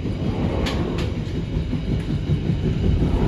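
The KA Kutojaya Selatan passenger train runs on the rails with a loud, steady rumble of wheels, carrying faint clicks, heard from on board without talk.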